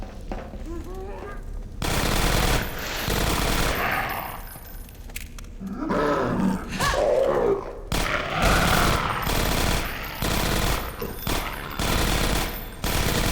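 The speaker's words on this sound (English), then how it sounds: "Oh, those are ceiling mounted turrets. Alright, Alyx, get shooting." Ceiling-mounted turrets in Half-Life 2: Episode One fire long, loud automatic bursts that rattle almost without a break, with a brief lull in the middle, mixed with game sounds.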